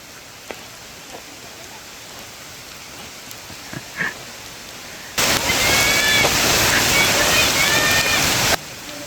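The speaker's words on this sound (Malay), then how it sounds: "Tinggal hujan guys. Lebat guys." Heavy rain on a hiking trail at Bukit Kiara, quiet patter with a few knocks at first, then a sudden loud rushing downpour filling the middle seconds before dropping back abruptly, no clear talking.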